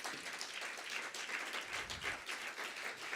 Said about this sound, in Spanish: Fuerte el aplauso, amados hermanos.